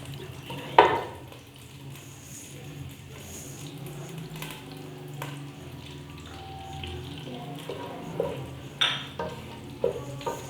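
Fennel seeds and green cardamom sizzle in melted ghee in a pan, a soft steady frying hiss broken by a few sharp clinks and taps of a utensil.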